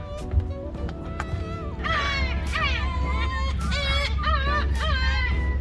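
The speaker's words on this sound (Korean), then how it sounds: "갈매기 소리입니다" Seagulls call repeatedly in bright, wavering cries over steady low wind or traffic rumble, several birds overlapping outdoors at Jinhae Marine Park on the South Korean coast.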